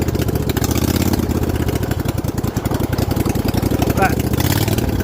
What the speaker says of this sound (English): We can idle it in second gear, just kind of rock bounce it as we go along.